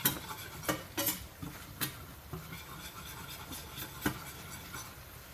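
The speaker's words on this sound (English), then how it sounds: "I'm going to whisk that up real good and make a roux" A whisk scraping and clinking steadily against a pan while a roux for a mushroom and artichoke white pizza sauce is mixed, with a few sharper metal knocks over a faint sizzle.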